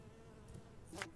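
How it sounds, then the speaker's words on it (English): Bees buzzing in the video game Skyrim, a faint low drone with a brief louder buzzing pass near the end, quiet and alone. "Hey, why are the bees here too?"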